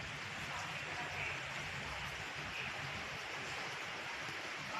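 Heavy monsoon rain falls on a house with a tin-sheet roof and soaked walls, making a steady, even hiss that continues unbroken and fairly quiet.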